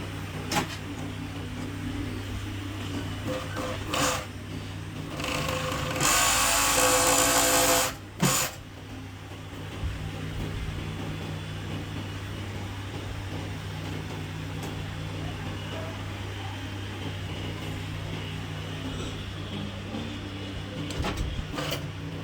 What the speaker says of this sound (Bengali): এরপরে আমাদের এই ওভারলক মেশিনে যে দুই সাইডে আমরা খুলে নিয়েছিলাম জয়েন দিয়ে দিতে হবে ওভারলক মেশিনে